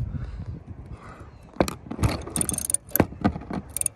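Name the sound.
ratchet loosening a 15 mm wiper bolt on a Dodge Charger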